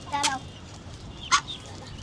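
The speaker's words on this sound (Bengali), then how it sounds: "তো গাইস এই যে সবগুলো হাঁস আমরা বের করে দিছি" A mother duck and her ducklings let out onto a rooftop give two short, fairly quiet calls about a second apart over a faint background hush.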